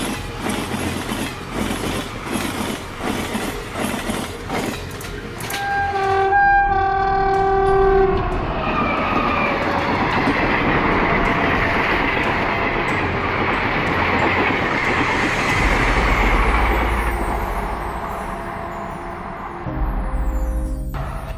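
Train in India sounding its horn in long blasts, then the cars rumbling past with rhythmic clickety-clack, loud and close, fading toward the end.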